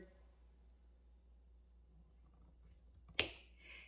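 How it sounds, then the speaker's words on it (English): Jewelry wire for a cross-woven six-wire pendant is cut with nippers on a work board. A single sharp, close snap comes near the end after near silence. "So I'm going to get my nippers, cut right on my board."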